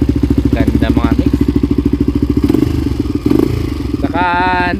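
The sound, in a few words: 1989 Honda XLR 250R motorcycle engine running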